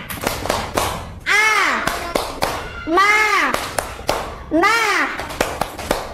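Children in a classroom chant a word in long sung calls three times, with crisp individual hand claps ticking between them in a brisk, uneven rhythm, all close and loud.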